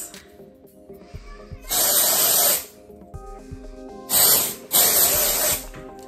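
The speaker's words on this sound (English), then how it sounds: "they're body paint spray cans" A body paint spray can, used for makeup, lets out three loud hissing bursts, each lasting about a second, with quieter gaps between them and faint tonal background sounds.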